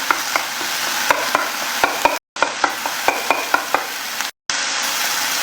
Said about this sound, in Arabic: راح أضيف الثوم وبحركه شوي